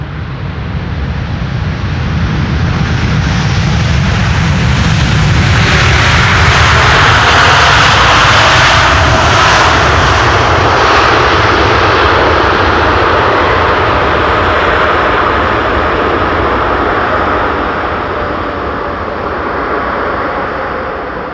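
Airliner landing on Schiphol's Polderbaan runway 18R with thrust reversers deployed, a loud sustained jet roar that swells and holds steady for about twenty seconds before easing slightly, with no talk over it.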